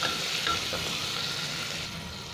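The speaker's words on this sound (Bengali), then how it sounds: "পেঁয়াজটা 2-3 মিনিট ভেজে নেব।" Onions frying and being stirred in a pan for pulao, a steady close sizzle with light scraping, no voices.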